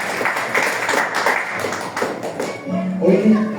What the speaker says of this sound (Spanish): Denle un aplauso al que hizo